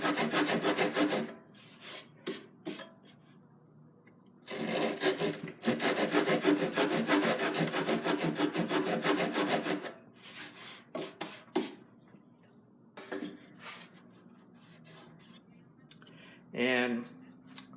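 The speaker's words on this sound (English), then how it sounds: "I just make a couple saw marks in there" A hand saw cuts kerfs into a wooden workpiece for a removable box till, making bursts of rhythmic rasping back-and-forth strokes, close and loud, with pauses and a short spoken moment near the end.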